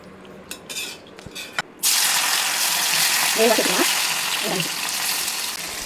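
Prawns sizzle as they fry in hot oil, a broad steady hiss that starts abruptly and continues close and loud, with a few faint clinks of a pan or utensil.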